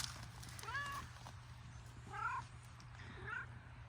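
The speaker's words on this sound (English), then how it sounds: "What, Miss Kitty?" A cat meows three times outdoors in a garden, each cry drawn out with a rising and falling pitch, fairly close over a steady low hum.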